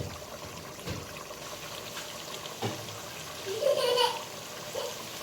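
Water is poured into a pot of cooking duck meat for boiling, a soft splashing trickle that swells briefly and then fades, heard close against faint kitchen clatter.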